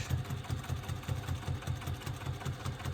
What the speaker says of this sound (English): I'm just going to stitch an 1/8 of an inch away from that folded edge